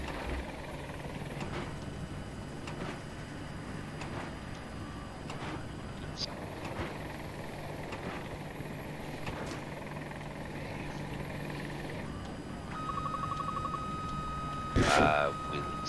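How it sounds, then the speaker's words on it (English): In Battlefield 2042, an enemy helicopter drones steadily in the background of the game mix, a constant low rotor wash under players talking and occasional in-game effects. "Helicopter, enemy helicopter."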